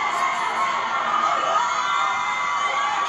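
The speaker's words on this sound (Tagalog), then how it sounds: "Hiyawan ang lahat nang lumabas sa Naiya Terminal 2 ang Redvelvet members" Excited fans scream and cheer in a dense, continuous roar as Red Velvet arrive at NAIA Terminal 2 airport, a steady high-pitched crowd din throughout.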